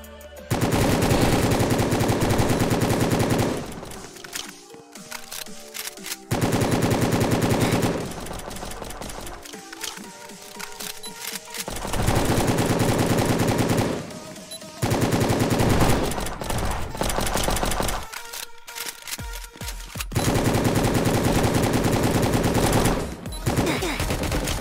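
Gunfire in Roblox Prison Life comes in long loud bursts of rapid automatic shots, separated by brief pauses, with a few quieter gaps between volleys.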